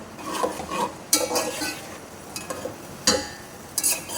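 Three medium onions fry in hot oil for green-masala prawn pulao, a soft continuous sizzle broken by several sharp scrapes and clinks of a spoon stirring against the pot, close up with no speech.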